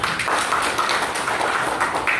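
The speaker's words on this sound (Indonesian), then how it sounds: "tepuk tangan dulu dong" A group claps together in a classroom, producing a dense, continuous patter of hand claps that stays loud and close for about two seconds.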